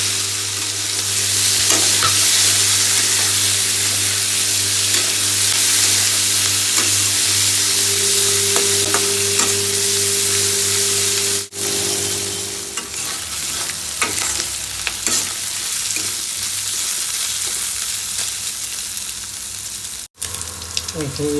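Chopped onions frying and being stirred in a pan for an Assamese chicken liver dish with chengmora, a steady loud sizzle running throughout with scraping stir strokes and brief pauses.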